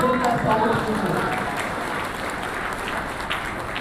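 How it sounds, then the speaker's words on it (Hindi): Audience applause welcoming the chief guest at a Christmas gathering, a dense steady patter of many hands clapping that stays fairly loud, with some voices mixed in underneath. "जोरदार तालियों से उनका स्वागत कीजिए"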